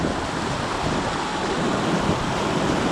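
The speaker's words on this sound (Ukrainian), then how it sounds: "от наша річка, яка називається Свіча" The small Svicha river flows through the Carpathian mountains in early spring snowmelt, a steady broadband rush of running water that holds constant and fairly loud for the whole stretch, with no voices.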